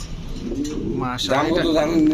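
Pigeons coo close by at a pigeon farm, low throaty calls repeating over steady background noise, with a few higher chirps mixed in.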